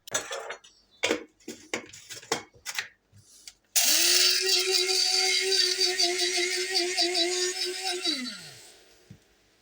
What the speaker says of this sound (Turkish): Öncelikle bir yemek kaşığı limon tuzunu öğüterek toz haline getiriyoruz.